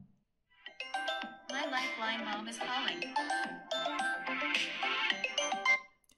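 A phone ringtone plays a bright, melodic chiming tune continuously for several seconds, close and clear, then stops abruptly.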